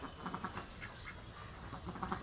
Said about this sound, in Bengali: এই আমার হাঁস চলে আসছে আমার কাছে